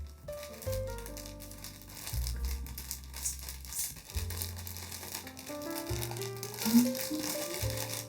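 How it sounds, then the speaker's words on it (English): Glitter gift paper crinkles and rustles as a Christmas present holding a doll-related surprise is unwrapped, with steady music playing throughout. "It's definitely from Marna with her trademark glitter paper"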